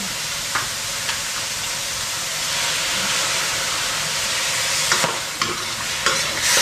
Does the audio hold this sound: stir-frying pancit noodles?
yes